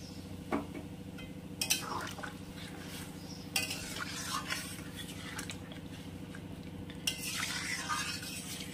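Spicy chicken curry stirred in a pot after hot water is poured in, quiet bubbling under a low steady hum, with several bursts of spoon scraping and clinks against the pot, no talking.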